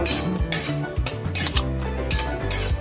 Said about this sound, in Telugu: ఆగకుండా కదపాలి, లేకపోతే మాడిపోతాయి